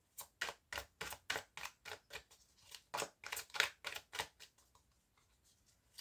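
A hand shuffles a Green Magic tarot deck, making a steady run of crisp, papery slaps about three or four a second. The sound is close and clear, with brief pauses, and trails off near the end with no talking.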